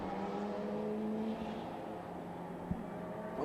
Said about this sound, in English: Just car noise going past our effects mics.